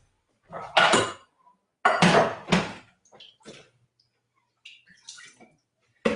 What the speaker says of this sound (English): I'm just gonna add a little water to the bottom so the onion doesn't stick